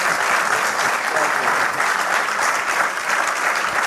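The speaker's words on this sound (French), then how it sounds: "Alors applaudissez pour nous." An audience at a film club master class claps steadily and warmly, dense applause filling the room without pause.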